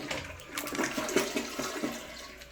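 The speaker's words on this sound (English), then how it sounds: "Toilet. How do you flush this?" A hotel-room toilet flushes nearby, a lever-operated gurgling rush of water with sloshing bursts that lasts a couple of seconds before trailing off.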